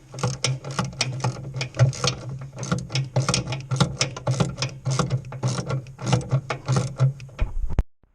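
A ratchet fitted with a double extension and 16mm socket undoes bolts on a Cat 304 excavator, rapid close clicking pawl bursts in repeated strokes, loud and continuous until a final stop.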